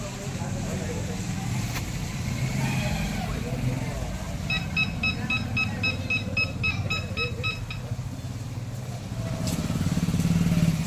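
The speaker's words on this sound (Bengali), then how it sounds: "অনেক কষ্টের মধ্যে টোটো নিয়ে যাচ্ছে" A toto electric rickshaw struggles along a rough, potholed road, its steady low motor drone running throughout the clip with a brief series of high electronic beeps partway through; voices talk nearby over the running vehicle.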